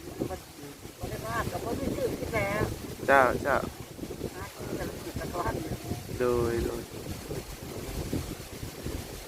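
Strong wind buffets a roadside spot where lotus flowers are sold, with steady rough gusting and rumble heard close. People talk over it throughout.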